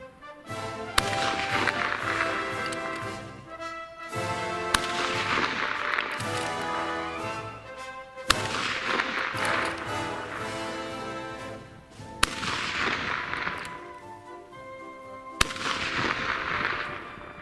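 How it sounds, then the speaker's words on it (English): Five sharp rifle cracks from a Lee Enfield SMLE, fired slowly and deliberately at a 300-yard range, each single report spaced several seconds apart over a steady background of outdoor noise. "So, there's the 5-round application shoot from the 300."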